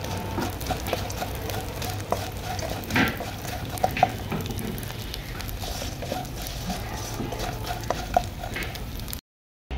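Ingredients for gond halwa frying in a pan, with a steady soft sizzle and occasional clinks and scrapes of a spoon stirring against the pan, close and continuous.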